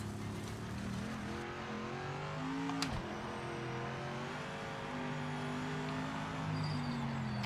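A Mercedes race car engine in a racing video game hums and revs continuously, its pitch rising and falling through gear changes, with a brief sharp dip mid-way; no talking.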